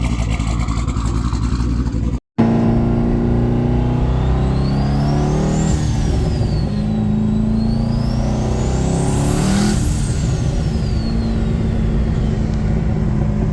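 A twin-turbo Corvette Z06 drives along with a loud, steady engine roar and rising and falling revs throughout, with a brief dropout near the start.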